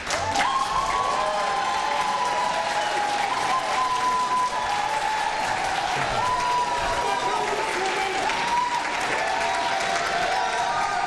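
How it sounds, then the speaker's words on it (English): Steady applause from a crowd at a televised congressional debate fills the whole stretch, loud and sustained, with a little cheering mixed in and a voice briefly underneath. "And now you can applaud."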